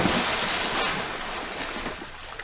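Rushing water sound effect from a sound library, a dense steady wash like surf or a flowing stream, loud and continuous throughout with no voices.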